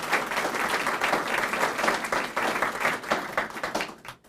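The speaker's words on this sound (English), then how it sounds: "would you all applaud the health department and the work" A live audience applauds the city health department at an official public announcement, with steady, dense clapping throughout that thins and fades toward the end.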